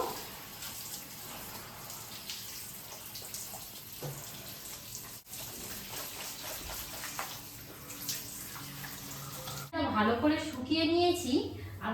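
Water running during a hair wash in the bath, a continuous hiss of flowing water with splashing, under a speaking voice, turning to a louder gush near the end.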